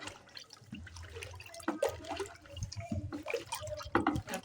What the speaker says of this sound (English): As you are pouring it, you are stirring it for 10 minutes.